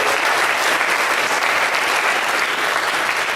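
Audience clapping at an Iowa Republican U.S. Senate candidate forum, a dense, steady burst of applause from a crowd lasting a few seconds.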